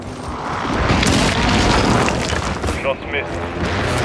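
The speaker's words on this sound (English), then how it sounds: "Hostile airstrike near your location." Airstrike explosions rumble through a Call of Duty Warzone 2 match, with sustained dense booming and crashing low-end that stays loud throughout, while a radio-style voice speaks over the blasts.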